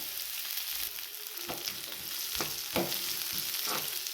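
Cut onion frying in a pan with garlic paste and mustard seeds, giving a loud continuous sizzle broken by a few sharp clicks and scrapes of a stirring spoon, close up with no speech.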